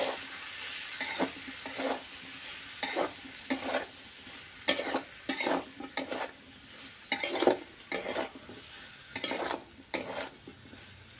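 Spices and ingredients are stirred and tossed in a hot pan over a low background sizzle, with irregular, close scraping and clattering strokes of a utensil against the metal, repeated in bursts for several seconds.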